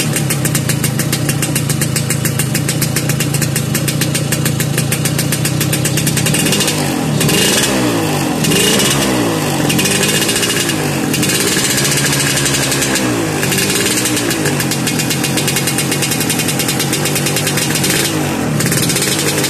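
A two-stroke Suzuki Satria motorcycle engine with original AHM exhaust, long unstarted, runs loudly and continuously, idling with a buzzy rattle, then revs up and down in repeated surges.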